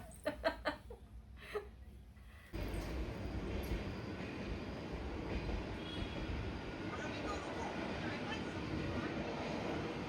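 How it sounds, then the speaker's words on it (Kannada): A passenger train rumbles past close by, a loud steady roar of wheels and carriages, after a few seconds of people talking and laughing. "ಪ್ಯಾಸೆಂಜರ್ ಟ್ರೈನ್ ರೀ ಅದು. ಈ ಟ್ರೈನ್ ಕ್ರಾಸ್ ಆಗ್ಮಟ್ಟ ಆ ಟ್ರೈನ್ ನಿಂತಿರೋದು"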